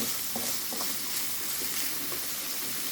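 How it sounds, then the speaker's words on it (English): Garlic sizzles steadily in a hot pan while a wooden spoon scrapes and knocks against it in a few soft, irregular strokes. "So I've got the wooden spoon out, giving this a good stir."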